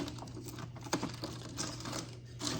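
Dry, papery venison jerky pieces handled and peeled apart close by, producing faint light crinkles and small ticks over a steady low hum, with no talk.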